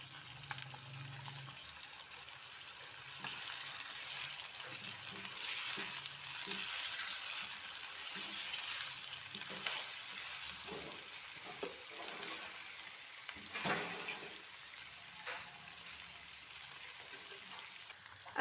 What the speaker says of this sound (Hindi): अब चिकन को हम हल्की आंच पर फ्राई करेंगे ताकि इसका कच्चापन दूर हो जाए।